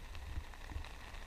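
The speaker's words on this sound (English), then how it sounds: "It is raining." Rain patters steadily on the fly of a large one-person tent at a cold campsite, a soft continuous hiss with low drumming close by and no voices.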